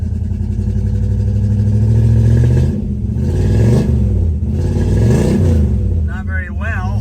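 A 1963 Chrysler 300J V8 engine runs rough and uneven up close, loud and lumpy, with its pitch rising and falling through several revs, and a voice speaks briefly near the end.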